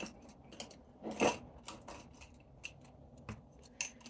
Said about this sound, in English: cut the thread, put it in a needle